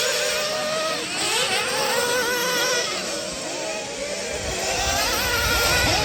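A GIMAR UFO MARS nitro RC buggy engine screams at high revs, its shrill whine rising and falling steadily and loudly for several seconds as the car races off with no talk over it.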